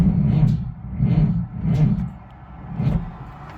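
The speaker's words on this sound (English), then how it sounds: "pull the fuel stop and see if it cranks" An excavator's diesel engine cranks over on a cold start, a close, low, labored churning in about four slow, uneven pulses that never catch.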